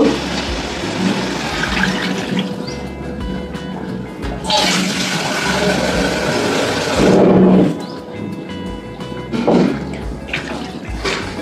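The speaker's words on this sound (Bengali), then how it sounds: "আমি এবার পরিমাণ মতো ঝোলের জল দিয়ে দেব।" Water pours into a pot of simmering potato-cauliflower curry with splashing, gurgling bursts that come and go, and a voice talks over part of it.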